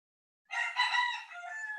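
A rooster crows once nearby, a clear, drawn-out cock-a-doodle-doo that rises and then holds a strained, wavering note after a moment of silence.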